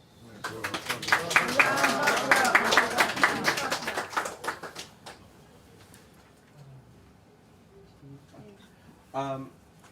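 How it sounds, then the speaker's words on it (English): Audience applause following a talk on Islam and Blackness in Brazil, a burst of many hands clapping for about four seconds that fades out, with speech and small sounds afterward. "Round of applause."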